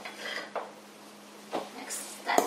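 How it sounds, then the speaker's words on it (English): Brownie batter stirred in a bowl, a few soft scraping and clinking strokes of a utensil against the bowl, close and fairly quiet, with a steady faint hum beneath. "Next, that's stirring."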